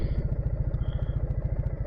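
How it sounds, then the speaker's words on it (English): A Triumph Bonneville motorcycle engine idling nearby, a steady, even low-pitched pulsing thrum with regular firing beats and no other sounds over it. "Turn off the engine."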